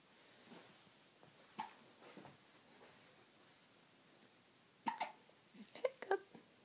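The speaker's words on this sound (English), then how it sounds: "Hiccup." A baby hiccups softly several times in a quiet room: a single hiccup early, then a close cluster of small hiccups near the end, faint and up close.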